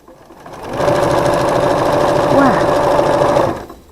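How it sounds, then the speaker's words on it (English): Sewing machine stitching a seam on a rainbow quilt made from half-square triangles, a close, loud three-second burst of rapid mechanical whirring that ramps up and stops. "we're going to sew this seam again"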